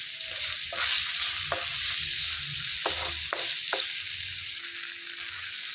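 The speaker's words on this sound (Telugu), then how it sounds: "ఉల్లిపాయలు అనేవి మంచిగా వేగిపోయాయి. టమాటా కూడా మెత్తబడిపోయింది." Onions and tomato fry in a pan for an onion chutney, a steady close sizzle broken by several sharp scraping stirs of a spoon against the pan, with no voices.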